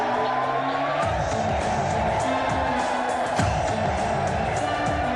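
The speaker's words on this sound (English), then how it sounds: "Most of the gangs applaud this idea as Cyrus asks them whether or not they can dig it." A large crowd of gang members in the film The Warriors roars and cheers continuously at full volume, a dense wall of shouting voices with a swell of louder yells partway through.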